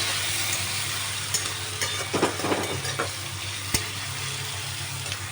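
Potato and onion fry in hot oil and spices for a katla fish curry, a continuous close sizzle with a few louder crackling bursts as the pieces are stirred.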